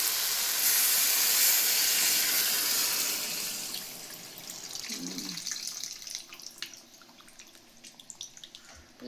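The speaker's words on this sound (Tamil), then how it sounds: "இப்போ வந்து புளி ஊற்றிப்போம்" Tamarind water pours into a simmering curry, a loud rushing splash and hiss at first that tapers into softer bubbling and crackling from the pot.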